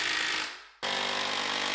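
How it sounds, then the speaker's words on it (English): A power drill drives screws into a workshop wall, running loud and close with a steady whine, cutting out briefly, then starting again at full speed. "I'm gonna go ahead and get some more of these screws put in here."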